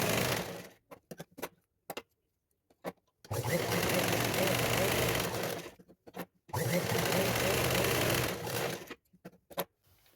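A sewing machine stitches the side fitting of a blouse in two long steady runs, close and loud, with brief stops and short bursts between them and someone speaking in the gaps.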